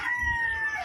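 A rooster crows once, close and clear, in a single sustained call with no talk over it.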